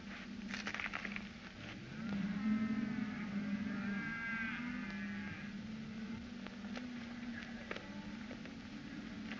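Herd of cattle lowing on a ranch, a long deep moo rising in the middle with quieter overlapping calls, moderately distant under a steady outdoor hiss, no talking.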